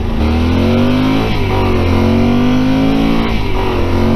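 A Yamaha Super Tenere motorcycle engine revs hard and close, with a loud, sustained note that rises and dips through the throttle, out on a country road.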